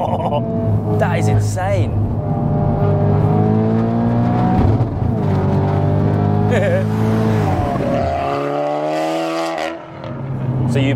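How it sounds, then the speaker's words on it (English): A fully built 600 bhp Audi S3 8V pulls hard in a rolling launch at full throttle, its engine note climbing steeply through several gear changes while people in the car talk and exclaim over it. "This is the rolling launch."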